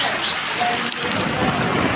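Steady hiss of rain falling outdoors, a continuous soft wash of drops with no voices, moderately faint and even throughout.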